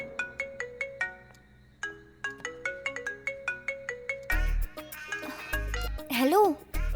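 A mobile phone ringtone chimes in a repeating melodic pattern of short bright notes, close and clear, then gives way to music and voices as the call goes on.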